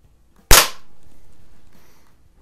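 A single sharp shot from a Crosman .22 caliber pellet pistol, an early-1960s Mark I, cracks loudly and alone, then trails off into a brief fading ring.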